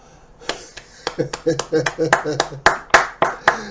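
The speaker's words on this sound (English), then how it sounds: "please stand up and give a big round of applause" Scattered clapping from a small audience, sharp individual claps in a loose, uneven rhythm with voices mixed in underneath.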